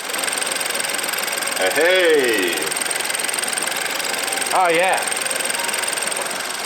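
A BMW F30 328i engine idles roughly with a steady, clattering, tractor-like rumble, amplified with the engine cover off, while a man calls out briefly twice over it.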